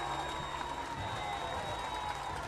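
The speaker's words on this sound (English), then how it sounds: "With a nice round of applause." Crowd at a baseball game giving a round of applause, heard faint and distant as an even, continuous patter of clapping blended with a low crowd murmur.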